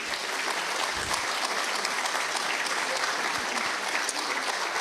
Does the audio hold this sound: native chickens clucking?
no